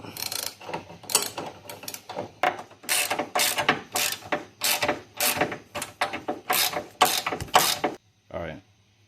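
A ratchet wrench tightens traction bar bolts on a 1992–2000 Honda Civic, clicking in a long run of quick, sharp strokes with brief pauses between, close and crisp, then stopping.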